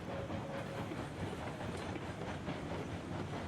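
A train rolls along in the video game Railroads Online, with a steady rumbling clatter of wheels on track and a faint whistle-like tone near the start, no talk.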